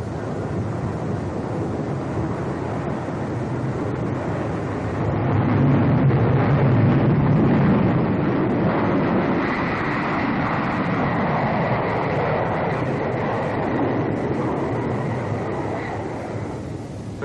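The jet engines of a Boeing B-47 Stratojet bomber roar as the throttle is opened, a loud, continuous broadband rush that swells in intensity partway through and holds with a steady whine on top.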